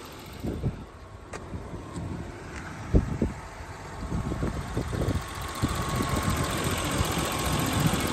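A factory-stock 1990 BMW 325i Cabrio idles with its hood open, producing a smooth, steady low rumble heard up close, with light ticking and a few soft knocks over the even engine note.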